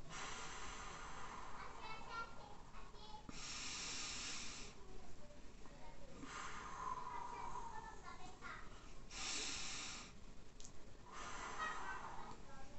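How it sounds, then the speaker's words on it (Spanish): Slow, calming exhalations blown out through the mouth, several breathy hissing puffs of air spaced a few seconds apart over a steady background hiss, close and fairly soft. "Y sacar el aire por nuestra boca."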